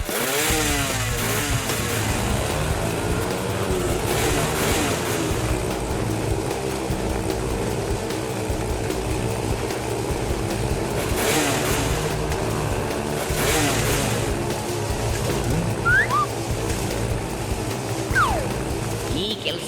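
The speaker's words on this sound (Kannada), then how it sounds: "ಈ ಧೀರ ವೀರ ಸಾವಿನ ಕೂಪದಲ್ಲಿ ಮೋಟಾರ್ ಸೈಕಲ್ ನಡೆಸ್ತಾನೆ." A cartoon motorcycle revs and drones continuously as it rides the walls of a well of death, its buzzing engine rising and falling in waves, with voices and other cartoon sounds mixed over it.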